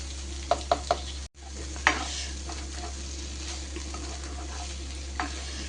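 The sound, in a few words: stirring onion tomato okra in a pan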